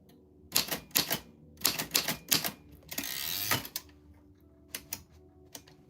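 Typewriter keys strike in quick bursts of sharp mechanical clacks, with a longer ratcheting rasp midway like a carriage return, followed by a few scattered taps; close and clear with no talking.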